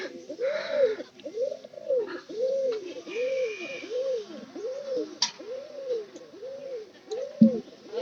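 Pigeons coo in a steady rhythmic series of about nine soft, rounded calls, close by and clear, with a few faint chirps and rustles behind.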